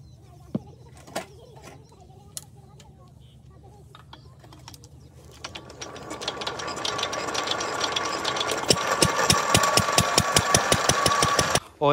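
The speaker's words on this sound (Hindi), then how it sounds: "इंजन स्टार्ट करते हैं" An engine that drives an irrigation water pump in a field starts up after a few scattered clicks, then settles into a fast, steady, rhythmic chugging that grows louder and continues to the end.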